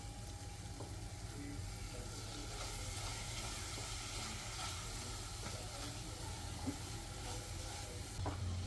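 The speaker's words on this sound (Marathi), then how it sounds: "आता हे आपण पाच मिनटं ढवळतो आहे" A thick mango modak mixture is stirred in a pan over a gas flame: a steady soft sizzle with faint scraping strokes runs throughout, close and low, with no one talking.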